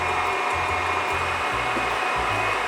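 An electric mixer whips two egg whites with a few drops of lemon, a loud, steady whirring drone with slight pulsing as the beaters move, close up and without talk.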